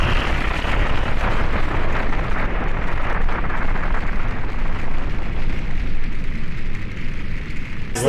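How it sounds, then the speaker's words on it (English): A deep, sustained roaring rumble of a large film explosion, dense and loud throughout with a crackling, rushing texture. "That's a big explosion."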